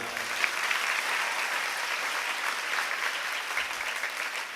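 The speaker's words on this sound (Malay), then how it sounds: "Kiai Mudarris Abdul Wahab, tepuk tangan untuk beliau." Audience applause at an Islamic study gathering at a pesantren in Madura, a steady dense crowd clapping that holds evenly for a few seconds, moderately loud and without voices.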